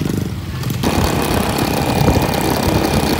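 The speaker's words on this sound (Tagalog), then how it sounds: "Tinesting lang namin kung kakaya ng motor." A motorcycle engine runs on a rough hiking trail in the Philippines, a loud, steady chugging drone that swells after a brief quieter start and stays close throughout.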